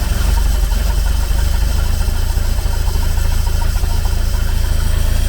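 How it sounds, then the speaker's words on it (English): A boat engine idles loudly and unevenly just after starting, a steady low rumble with a rough, sputtering texture throughout. "Always a rough running engine when it first starts."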